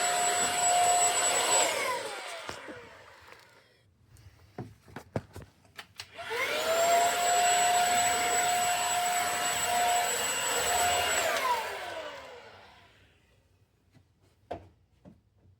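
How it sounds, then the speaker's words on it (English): A vacuum cleaner clears debris from a Bryce house furnace. Its loud whine runs for about two seconds, stops for a stretch of clattering handling noises, then restarts for about five seconds and winds down. "So I'm going to vacuum it out."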